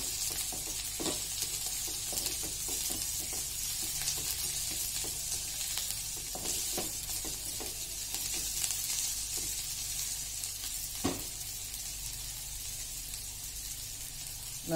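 A coarsely ground paste of peanuts, green chili and garlic sizzles steadily in a hot pan with oil. The frying hiss is quiet and continuous, with occasional soft stirring scrapes and no voices.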